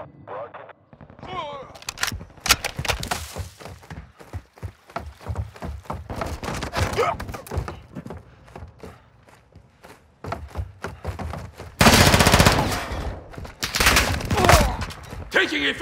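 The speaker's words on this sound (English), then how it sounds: "Taking effective fire!" Gunfire in Call of Duty: Modern Warfare 2, a dense run of sharp, rapid shots and bursts across the whole stretch, loudest in a heavy volley near the end, with voices and radio chatter mixed in.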